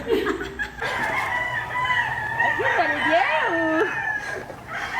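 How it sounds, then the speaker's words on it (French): Chickens and a rooster in a henhouse beside a rental lodging in Mexico: a loud, close crow rising and falling over steady clucking, with brief human voices mixed in. "Fait que notre Airbnb est à côté d'un poulailler"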